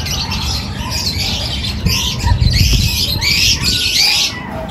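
Racing pigeons arrive at a loft during training, with repeated squawks and chirps over a steady outdoor background and a brief flutter of wings near the middle.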